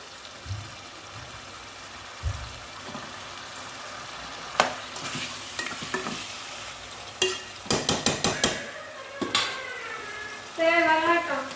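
Chicken biryani gravy cooks in a pot with a soft simmering sizzle while a spoon stirs and scrapes the pot in several short bursts, the clatter growing busier toward the end.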